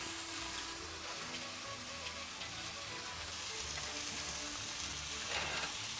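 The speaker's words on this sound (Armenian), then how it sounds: "Սպասում ենք միսը, որպեսզի տապակվի մինչև վերջ" Meat frying in a pan gives a continuous, close, crackling sizzle at a moderate level throughout, with a slightly louder burst near the end.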